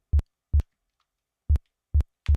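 The thump layer of a designed gunshot plays alone as five deep, punchy low thuds, short and isolated, evenly spaced apart like heavy hits with silence in between.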